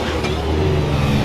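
Ferrari 488 Pista driving in at the Carburacoeur 2024 car event, its engine a close, rising mechanical drone that swells slightly over a brief moment.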